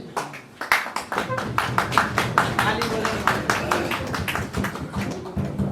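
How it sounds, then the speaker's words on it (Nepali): A crowd at a political gathering with Chairman CB Gahatraj claps in a dense, steady burst of applause, with many sharp hand claps overlapping at close range and continuing for several seconds. "यो चाहिँ मेरो घरले बजा ताली होइन है, तपाईँहरूको सुरले बजाएको ताली हो।"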